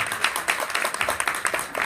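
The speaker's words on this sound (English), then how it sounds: "Let's give them all a round of applause this afternoon." Audience clapping for a panel of speakers at a talk, a short burst of close, fairly loud claps with an uneven rhythm.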